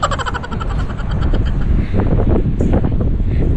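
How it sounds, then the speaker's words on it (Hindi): Wind blowing steadily and loudly, buffeting the microphone with a constant low roar and rustle, no voices. "गाइस मस्त हवा चल रही है, सच में एकदम सुहाना लग रहा है मौसम।"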